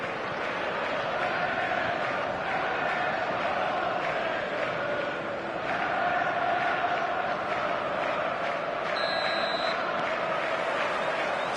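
Stadium crowd on football match day, a steady loud roar of many voices filling the whole stretch with swells of chanting and noise, continuous and dense with no pause.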